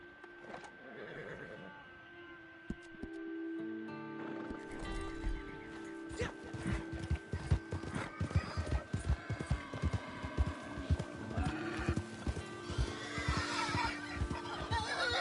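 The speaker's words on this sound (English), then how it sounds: "See if we can hear the horse freak out while we're in cinematic." Horse in the video game Red Dead Online neighing and snorting amid a busy run of clip-clopping hooves and other game sounds, loud and layered throughout with a steady background tone.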